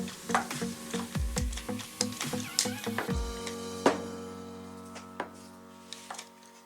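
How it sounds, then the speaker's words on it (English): A pistol-style mini grease gun is pumped by hand in a quick series of mechanical clicks and squelches, fairly close, that thin out into a few scattered clicks. "you're gonna pump it for what feels like forever"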